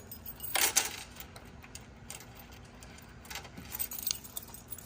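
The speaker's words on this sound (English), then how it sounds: "Got a couple keys here." Keys jangle on a ring beside the open trunk of a 1972 Ford Torino, a bright close rattle in one burst early on and a lighter shake near the end, with no talk.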